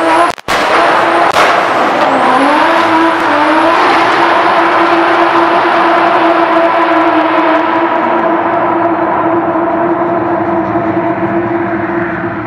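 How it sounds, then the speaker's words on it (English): A turbocharged Toyota Supra launches on a wet tunnel road, a loud sustained engine roar climbing in pitch with turbo whine, echoing and reverberant throughout. "we've got this Toyota Supra and it launches in this tunnel in the wet"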